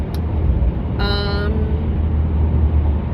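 A car drives through traffic on a morning commute to work, with a steady low engine and road rumble inside the cabin and a short horn blast partway through.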